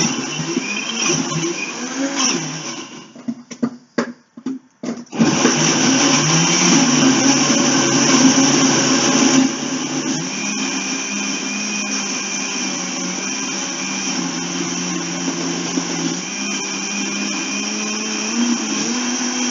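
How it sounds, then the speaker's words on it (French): A blender whirs as it purées chunks of apple and other fruit, including passion fruit. Stuttering, labored bursts come first while the motor strains on the large pieces, then it settles into a loud, steady, continuous whirr. "le blender"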